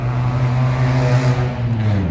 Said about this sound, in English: I gotta deal with these loud cars too.